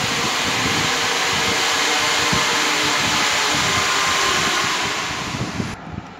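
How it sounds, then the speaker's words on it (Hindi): Electric drill machine running with a steady, loud whirring drone that holds constant and then winds down near the end, with no voices over it. "हाँ बेटा आवाज़ आ रही है ना, कुछ एक्चुअली है ना ड्रिल मशीन चालू है ना"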